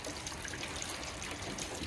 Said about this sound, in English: you can hear the amount of water